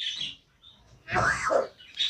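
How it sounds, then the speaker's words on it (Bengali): Caged pet birds chirp in short, quiet bursts separated by brief silences, with a louder squawking call near the middle. "এই খাঁচায় পাখিরা এত কথা বলে দেখবেন।"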